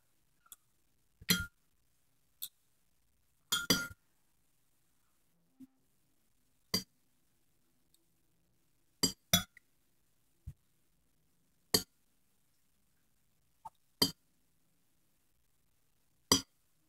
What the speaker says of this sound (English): I don't have to use a spoon, but I can, so I'm just gonna use a spoon.